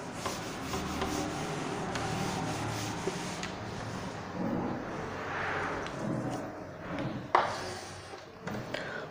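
A duster or eraser rubs writing off a classroom board in a thermodynamics lecture, a steady close scrubbing and swishing that runs throughout, with a few sharper knocks near the end.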